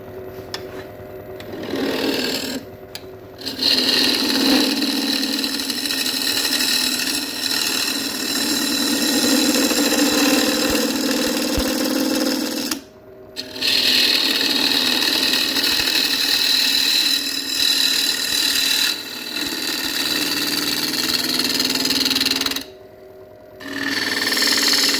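A wood lathe turns a Blackwood bowl with a steady, close whirring hum and scraping tool contact in long continuous runs, broken by a few brief stops, with no talking.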